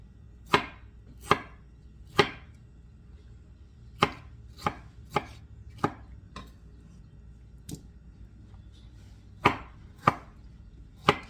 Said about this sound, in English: So just chop them up, put them in a bowl.